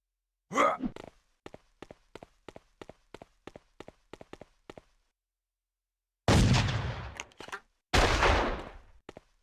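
Sniper gunfire in the Mafia video game: a quick string of about a dozen sharp, evenly spaced shots, followed by two long, loud booming blasts with rumbling tails, close and dominant.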